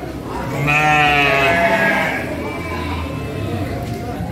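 Sheep bleating at the Andir livestock market in Bayongbong, one loud, wavering bleat up close followed by crowd noise and people talking in the background.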